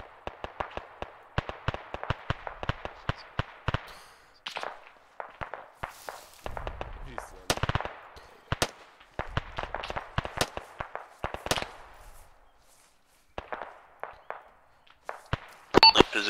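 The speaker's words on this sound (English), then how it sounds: "we are stuck in a firefight next to compound" Rapid gunfire in a military video game firefight near a compound: dense bursts of sharp cracks, some in quick strings and others spaced apart, with a few deeper booms and short silent gaps between exchanges.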